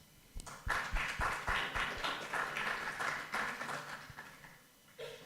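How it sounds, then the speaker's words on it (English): A conference audience applauds two keynote speakers. The clapping is distinct but fairly quiet and distant, builds quickly into a brisk patter, then thins out toward the end. "Let's give them a round of applause."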